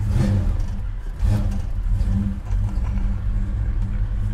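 A 1965 Chevy Malibu SS with a 502 engine rumbles loudly from inside the car, its deep low exhaust note rising with a couple of revs and then holding at a heavy idle.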